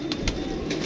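A pigeon cooing up close, a short run of soft low throaty coos repeating rhythmically within under a second, with no talking.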